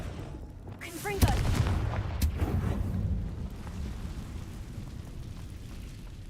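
A Confringo fire spell explosion in the video game Hogwarts Legacy: a sudden loud blast with crackling impacts, then a rumbling roar that slowly fades over several seconds, with a voice briefly heard nearby.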